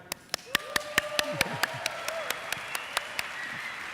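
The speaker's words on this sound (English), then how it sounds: "a big applause for Maggie" A few people clap at a talk on essential oils, sharp separate claps in a slow even rhythm, with a voice speaking underneath.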